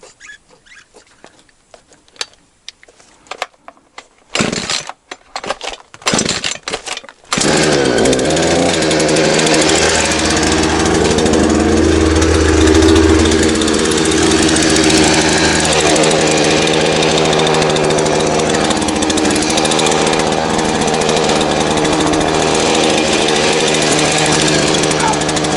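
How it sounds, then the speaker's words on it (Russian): Several sharp pull-cord tugs and sputters, then a chainsaw roars to life in an attic and runs loudly and steadily, its engine revving up and settling. "Сейчас пила заведется"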